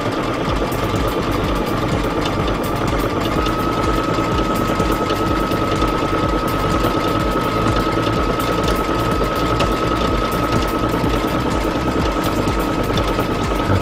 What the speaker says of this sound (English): So now we're going to do that decorative stitch, the last one we just did.